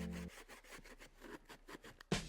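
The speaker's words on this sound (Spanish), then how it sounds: "Con la ayuda de una lija afinaremos el recorte realizado." Sandpaper rubbed by hand over the cut edge of a bumper on a 2017-2020 Mercedes-Benz E-Class T213 All Terrain during a tow hitch fitting, giving a run of close, rhythmic rasping strokes that ends in a sharper knock.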